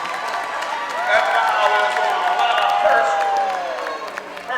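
A home crowd at a girls' high school basketball game between Snider and Homestead cheers and claps loudly and continuously, with a commentator speaking over it.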